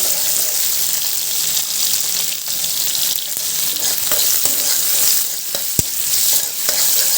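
Chopped onions frying in hot oil in a pan, a loud continuous close-up sizzle with occasional clinks and scrapes of a stirring spoon against the metal.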